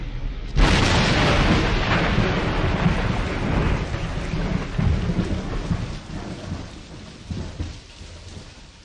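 Thunderstorm with a sudden loud thunder crack early on, followed by a long rolling rumble over steady heavy rain and gusting wind, dense and close throughout with no voices.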